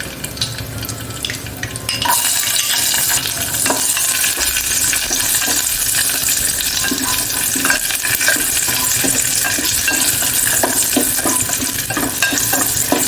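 Cashews and raisins fry in hot ghee for a sweet banana dish, a loud, steady sizzle that runs unbroken, broken by occasional stirring scrapes close by, with no talking.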